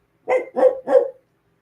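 Three loud, evenly spaced dog barks sound close by in quick succession, then silence.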